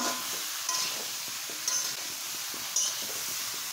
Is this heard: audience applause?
no